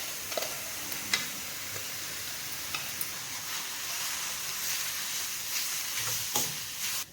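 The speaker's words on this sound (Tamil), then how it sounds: "எண்ணெயிலே நல்லா வதங்கிடுதுங்க" Grated beetroot sautéing in oil for beetroot thokku, heard as a soft, steady sizzle with occasional clicks and spoon taps against the pan, and no voices.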